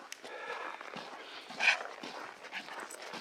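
A German Shepherd dog next door, a young one kept on a leash, gives a short bark or yip amid outdoor background noise, moderately distant and without talk.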